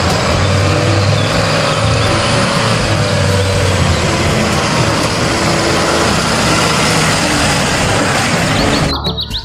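A toy school bus gives off a loud, steady motor hum close by, running continuously before cutting off abruptly near the end.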